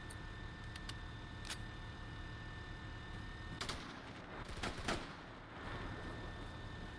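Gunfire in a military video game: a few distant, muffled shots over a steady low background rumble, the clearest bursts coming in the second half, with no talking.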